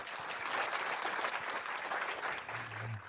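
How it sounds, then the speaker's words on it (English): A live audience claps steadily after a tech quiz, the applause broad and sustained for a few seconds, with a faint low hum near the end. "give yourselves a round of applause, and I'll help with some sound effects."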